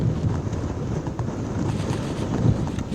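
Strong winds from Cyclone Biparjoy blowing through Morbi, Gujarat, a steady, loud buffeting roar that batters the microphone for the whole stretch, with no voices over it.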